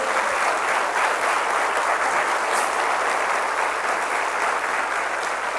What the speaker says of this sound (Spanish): ¿Le puedes dar un aplauso al Señor por eso?